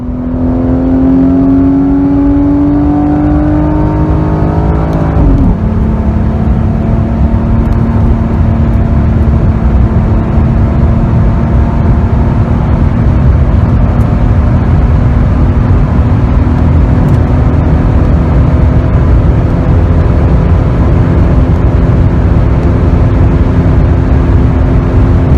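A Dodge Challenger with the 3.5-liter V6 accelerates hard toward top speed, its engine rising through a gear, then settling into a loud, steady high-speed drone with road and wind noise from inside the cabin.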